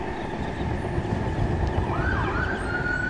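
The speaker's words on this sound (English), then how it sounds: "Uh-oh, I hear sirens." An emergency siren wails and sweeps upward over a steady traffic rumble on Central Avenue, loud and fairly close, heard while riding a Maxfind Max 6 electric skateboard.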